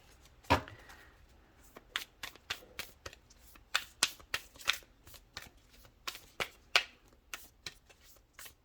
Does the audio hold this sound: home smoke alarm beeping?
no